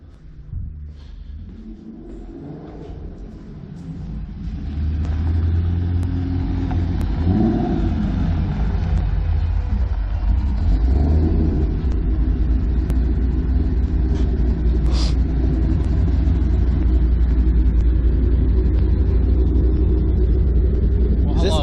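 A loud, cammed Ford Mustang V8 engine idles with a deep rumble, then revs up and holds a heavy, throaty roar, with a few quick blips near the end.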